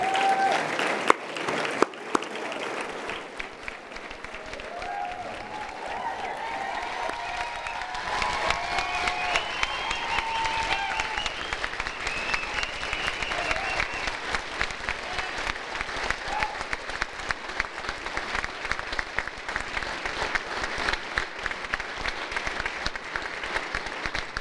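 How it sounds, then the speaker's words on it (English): Sustained audience applause fills the room at the unveiling of the Roots of Knowledge windows at UVU, steady and dense clapping from a large crowd with a few louder claps near the start. "applaud them again"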